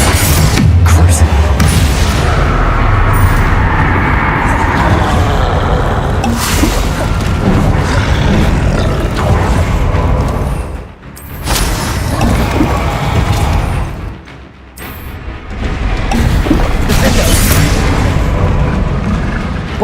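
Loud, continuous spell blasts and booming impacts from Bombarda and Confringo in Hogwarts Legacy, a dense barrage with brief lulls, under a voice calling out spell names.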